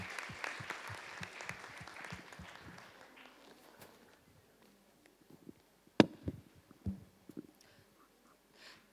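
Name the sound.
audience applause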